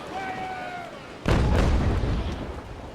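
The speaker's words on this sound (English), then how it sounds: "Give her another volley of chain." A ship's cannon volley of chain shot in the naval game Naval Action: after a quieter stretch with a faint whistle, a loud, booming broadside erupts and rumbles on for a second or more before fading.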